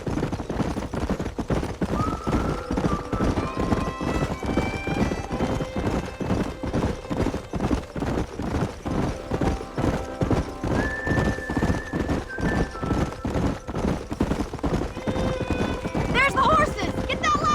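Hooves pound in a rapid, steady galloping rhythm while horses whinny now and then, loud and close, with voices calling over the herd, in the video game Red Dead Redemption.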